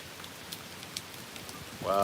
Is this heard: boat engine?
no